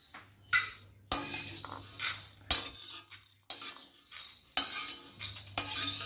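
Roasted wheat grains being scooped out of a hot pan, bursts of rattling, scraping and clinking from a utensil against metal, close, separated by brief pauses.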